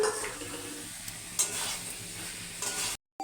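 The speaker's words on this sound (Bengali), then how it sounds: "ইঁচড়টা দিয়ে দেবো, দিয়ে কষিয়ে নেবো।" Raw jackfruit and potato sautéing in a pan make a steady close sizzle, with scraping stir strokes throughout and a brief cut near the end.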